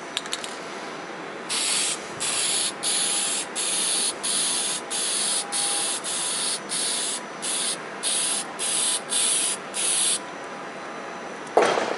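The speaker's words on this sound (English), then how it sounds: "all you have to do is spray it on" A spray can of finish hisses in a long series of short, even bursts, each about half a second with brief gaps, close by and steady, with no talking.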